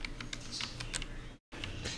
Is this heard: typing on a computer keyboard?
yes